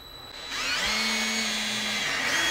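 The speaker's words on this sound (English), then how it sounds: "we're going to take and drill a little hole right even with that second" A power drill starts up and bores a small hole in a VW Bug engine valve cover, a rising whine that settles into a steady, close, high-pitched grind with no talking.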